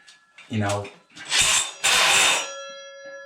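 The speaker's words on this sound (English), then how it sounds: "What you do is you get the drill spinning real fast" A handheld power drill spins up in short bursts during a weekend woodworking project, whirring loudly in two or three surges with brief pauses between, close to the listener.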